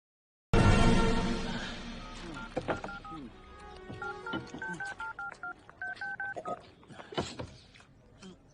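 A sequence of telephone keypad tones beeps out one by one after a loud burst of noise, with faint movement sounds in the background.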